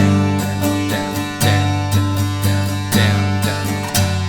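Guitar strumming the second line of chords from a song in an even down-up rhythm, steady ringing chords close by with regular strum accents and no voice.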